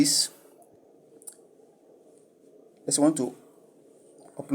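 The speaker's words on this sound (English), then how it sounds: "You click it and then click on next." Computer mouse clicks during a video upload on a computer: a sharp click near the start, another faint tick, then a short cluster of clicks, with quiet room hum between them.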